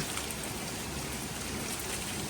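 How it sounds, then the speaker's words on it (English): Steady rain pours down on a freshly patched asphalt parking lot, a dense, even hiss of drops on the wet surface, close and continuous with no voices. "Not the greatest thing to have all this rain come down on it right after you patched"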